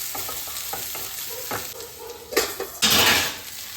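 Potatoes sizzling in a pan in a home kitchen, with a utensil stirring and scraping against the metal in a few distinct bursts over a steady frying hiss.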